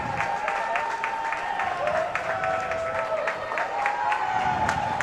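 Spectators in the stands at a winter high school swim meet in a pool hall clap and cheer steadily for a swimmer nearing the wall, a continuous wash of applause with scattered shouts.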